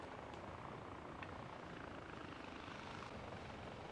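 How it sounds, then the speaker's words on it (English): Helicopter in the video game Far Cry 4, a small chopper giving a steady, dense rotor-and-engine roar that holds at an even loudness throughout, with no voices. "I do like these little choppers."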